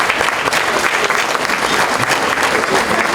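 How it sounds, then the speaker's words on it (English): A gala crowd gives a dense, steady round of applause for the JAHJAH Foundation at its 2017 gala, loud and close throughout. "Can you just all give them a round of applause,"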